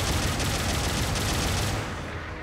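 Arm-mounted machine gun firing in Gundam Battle Operation 2, a dense, loud stretch of rapid gunfire that runs steadily and then eases slightly at the end.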